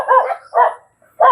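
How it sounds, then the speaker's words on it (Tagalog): A dog barks three times at close range, loud sharp woofs with short pauses between them and no other sound around. "Uy, may aso."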